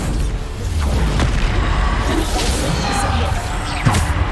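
A Bombarda blasting spell goes off in Hogwarts Legacy, giving a dense booming rumble with whooshes and crashing impacts that fills the whole moment at close, loud range.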